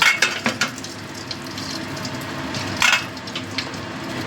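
Whole cumin seeds sizzle in hot frying oil, the same oil just used to fry a fish head, giving a steady crackle and sputter broken by a few sharp pops near the start and a burst around the middle.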